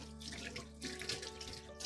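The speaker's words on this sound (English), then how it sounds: "now I'm going to wash my hands very quickly and pour in some water." A kitchen tap runs briefly while hands are washed during coconut chutney preparation, a close, steady stream of water.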